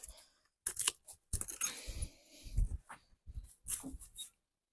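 Pruning shears cutting rose stems in a garden being readied for winter: several quiet, close snips and crunchy rustles in short bursts, with brief pauses between cuts.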